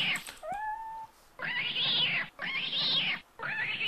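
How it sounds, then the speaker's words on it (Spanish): A cat meowing while drowning in Minecraft: one short rising mew followed by three long, loud, strained meows in a steady sequence, with no talk. "Se está ahogando el gato, pendejo."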